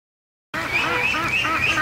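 A group of ducklings quacks and peeps continuously and close by, a dense overlapping chorus that starts abruptly after half a second of silence.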